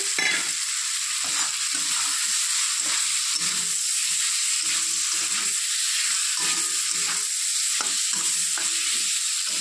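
Fried potatoes stirred into sizzling spices and salt in a pan: a constant hiss of frying broken by repeated scraping strokes of the spatula, near and clear, without speech.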